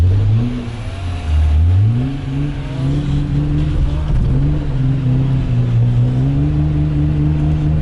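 A drift car at a winter ice-track drift event accelerates hard, the engine revving up loudly and climbing through gears in a close, continuous pull with no talk.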